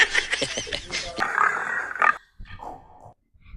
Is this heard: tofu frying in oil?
no